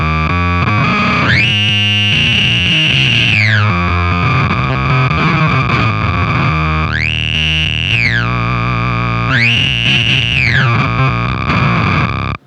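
Heavily distorted guitar drones while a Beetronics Zzombee filter pedal in ramp mode sweeps up and down three times, rising to a bright, harsh peak and falling back.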